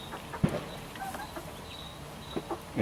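Chickens cluck softly at a moderate distance, with a few brief louder calls scattered over faint background noise.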